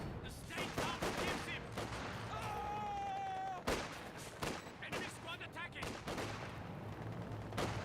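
Squad gunfire in the video game Company of Heroes 2 crackles in dense, irregular bursts of shots mixed with battle noise and a brief whistling tone, under a continuing voice.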